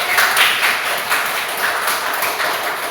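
Students in a classroom clap for a presenting group, a busy crowd of hand claps that rises and dips slightly while staying steady.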